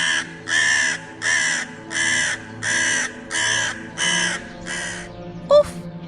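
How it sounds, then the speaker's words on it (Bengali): A single crow perched on a tree branch caws over and over, seven loud, evenly spaced harsh calls close by, followed by a brief sharp sound near the end. "তখন সেখানে গাছের ডালে বসে একটি কাক ক্রমাগত ডেকে চলেছে"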